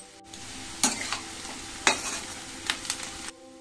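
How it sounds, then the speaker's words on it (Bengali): Onion and curry leaves dropped into hot oil, giving several sharp bursts of loud sizzling over a steady crackling background, close up and without voices. "পেঁয়াজটা হালকা ভেজে নেব, পেঁয়াজের সাথে কারি পাতাটাও দিয়ে দেব।"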